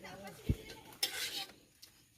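Food is sautéed in a pan, with a soft sizzle under brief knocks and scrapes of a utensil against metal, including a sharper clack and a short burst of frying hiss, all fairly quiet.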